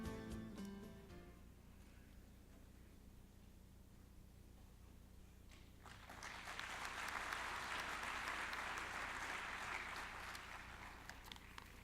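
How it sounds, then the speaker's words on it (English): Sustained audience applause at a conference keynote session for the Commissioner of Statistics Korea and OECD guests, starting faint and swelling into steady, dense clapping from about six seconds onward, with no talking over it. "please greet him with a big round of applause."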